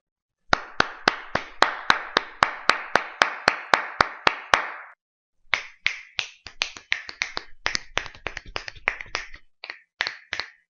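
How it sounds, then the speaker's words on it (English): Close to the microphone, a single person claps in a rapid, even run of sharp claps, pauses briefly, then snaps fingers in a quick, slightly irregular series of crisp, dry clicks. "I'll do some clapping and I'll do some snapping of my fingers."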